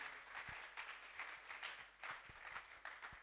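Church congregation clapping during a Tuesday teaching service, faint steady rhythmic applause from a crowd with a regular pulse throughout.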